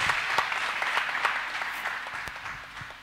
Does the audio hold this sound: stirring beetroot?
no